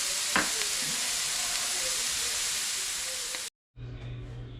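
Chopped pork meat fries in a pan with a loud, steady sizzle and a few stirring scrapes; it cuts off abruptly, then resumes briefly with a lower hum.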